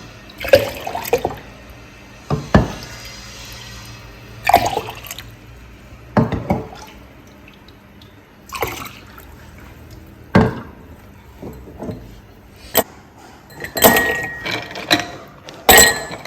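Pineapple ginger juice is poured and served outdoors in sunny Ghana, intermittent bursts of liquid splashing into cups with clinks of glass between quiet gaps.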